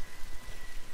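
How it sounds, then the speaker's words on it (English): Rain falls in the video game Ghost of Tsushima, a soft, continuous patter with no talking over it. "I don't remember it ever raining in this game either."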